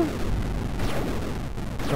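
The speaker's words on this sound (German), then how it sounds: "nochmal eine Explosion" Dense, booming explosions in the indie video game Dungeon Souls rumble continuously, layered with crackling blasts and chaotic game effects throughout.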